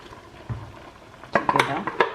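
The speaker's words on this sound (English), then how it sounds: "Now I'm adding the ginger, garlic, onion, and aniseed here" Ginger, garlic, onion and aniseed go into a cooking pot for Ghanaian chicken light soup, with a soft thud followed by a quick cluster of metallic clinks and scrapes from a utensil against the pot.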